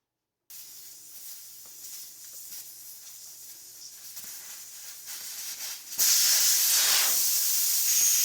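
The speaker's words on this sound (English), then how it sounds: "and remove the valve." Air hisses out of a wheel's tire once the valve core is removed, a close steady rush that starts abruptly after a brief silence and grows markedly louder and brighter partway through, with no talking.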